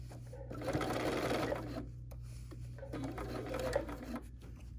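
A BERNINA sewing machine stitches through fabric in quiet bursts, a fast mechanical whirring run, a pause, then another stitching run, heard close with low room hum and no speech.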